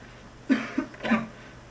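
A person coughs a few times in short, close bursts over a faint background hum, in a cough drop commercial spoof.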